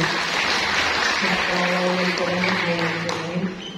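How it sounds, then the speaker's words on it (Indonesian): A church congregation applauds during a sermon, with clapping spread through the hall while a voice and a sustained musical tone run underneath. "Boleh kita beri tepuk tangan yang terbaik."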